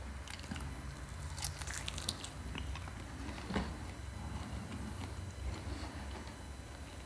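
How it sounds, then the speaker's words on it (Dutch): Someone takes a first bite of a Domino's buffalo chicken wing. Soft, close crunching and chewing sounds are quiet and scattered over a faint steady background hiss. "Domino's Buffalo Wing, eerste hap."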